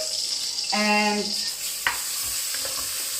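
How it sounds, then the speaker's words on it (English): Onions sauté in butter and oil in a pan, a steady sizzling hiss under a short voiced word, with a stirring clink midway. "I'm just going to saute my onions"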